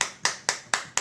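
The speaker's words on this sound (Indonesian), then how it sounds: "Ayo beri tepuk tangan dulu walaupun saya tidak dengar" Hand claps ring out in a church service. There are five sharp, evenly spaced claps, close and crisp, with nothing else heard.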